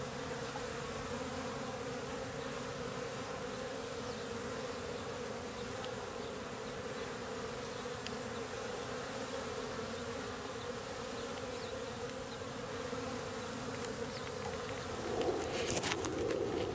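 Honeybees buzz at a hive in a New England garden in late March, a constant close drone of many wings, with a brief rustle near the end.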